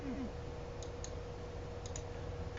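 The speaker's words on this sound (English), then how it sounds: "You're probably hearing the clicking of my mouse." Computer mouse clicking during a farming game session: sharp, light clicks in a few close pairs, around two clusters, over a steady low hum of background noise.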